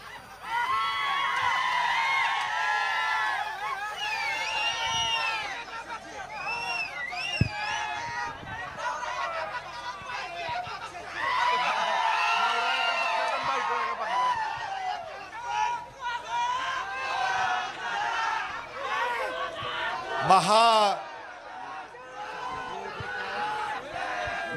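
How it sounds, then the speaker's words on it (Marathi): A big crowd at a Maha Vikas Aghadi political rally and procession in Dharashiv cheers and shouts in rising and falling waves of massed voices, with whoops and a sharp whistle-like squeal partway through. "तुमच्यामध्ये जो जल्लोष आम्ही पाहतोय"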